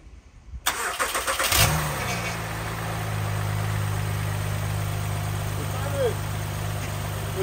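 A 2010-2013 Acura ZDX engine cranks and catches after a timing belt, drive belt and J-pipe replacement, then settles into a steady, low idle that hums on evenly for several seconds.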